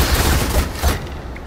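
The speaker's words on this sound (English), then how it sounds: "First wave fire!" A volley of arrows loosed on command by archers in the Assassin's Creed Valhalla video game, heard as a loud, dense rush of overlapping releases that fades within about a second.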